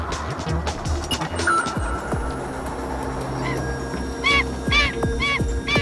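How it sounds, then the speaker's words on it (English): A crowded Adelie penguin colony with birds incubating eggs gives off a dense chorus of harsh honking and braying calls, some near and loud, others overlapping in the background. "in this crowded colony where Adelie penguins are incubating their eggs"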